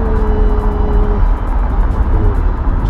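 Hyundai Veracruz SUV accelerating from low revs, a continuous close engine drone with tyre and road noise, a faint rising tone fading out midway.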